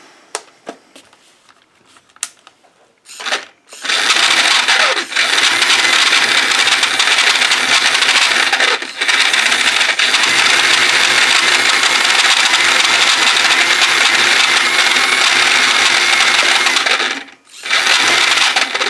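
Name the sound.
Tamiya RC car electric motor running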